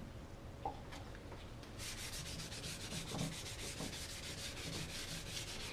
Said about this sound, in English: Now we'll just sand it